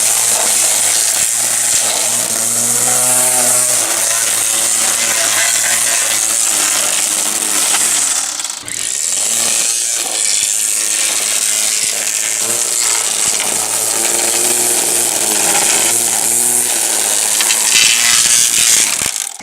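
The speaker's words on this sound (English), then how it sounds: "Now I'll go ahead and do a little trimming so you can see what it looks like." A Black & Decker 40V battery string trimmer cuts grass, a loud continuous high-pitched whine with wavering tones as the line meets growth, steady and close throughout with one brief dip in the middle.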